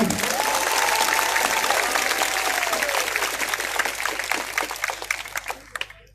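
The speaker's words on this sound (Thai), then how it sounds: "ใครสงสัยเหมือนผมปรบมือหน่อยดีครับ" A crowd at a Thai political rally bursts into loud, dense applause with a few rising whistle-like cheers near the start, the clapping staying strong and then tapering off toward the end.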